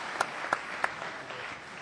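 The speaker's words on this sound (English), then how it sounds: "She, together with Carrie Phipps and Barbara Faring and all the volunteers, need a round of applause." Applause from a town hall audience for event volunteers: a few distinct loud claps stand out near the start over a soft, thin wash of clapping that tapers off quickly.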